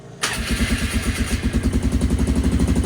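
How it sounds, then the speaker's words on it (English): A Polaris Sportsman 500 ATV engine with a loud muffler fires up and settles into a fast, lumpy, throbbing idle, close and loud, with rapid regular exhaust pulses and no voices. "Muffler's a little loud on this thing."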